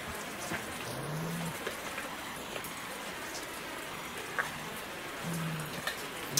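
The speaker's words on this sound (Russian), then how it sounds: "дождик таки капает, а мы и так промокли у нас куртки" Steady patter of rain dripping and falling, a constant soft wash with a few louder drops, no voices.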